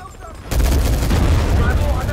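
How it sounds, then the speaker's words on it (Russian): Loud, dense gunfire and explosive rumble from Medal of Honor 2010 multiplayer combat, starting abruptly and continuing as a continuous barrage. "стреляю по своим"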